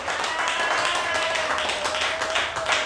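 A worship congregation clapping, a dense continuous burst of many hands close by, with voices mixed in underneath.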